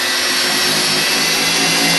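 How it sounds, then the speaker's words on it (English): A power drill whirs continuously and loudly, boring a 3/8 inch hole into a metal ladder rack mount between two mounting bolts, with no talking. "We have to drill in here a 3/8 inch hole directly in the middle of the 2 mounting bolts"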